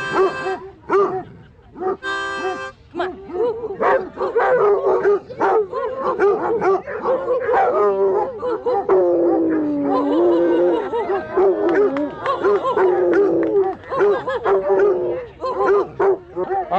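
Several Basset Hounds bark and howl at an outdoor picnic gathering, with long drawn-out howls rising and falling over the middle of the clip, loud and close, while people talk and call to them.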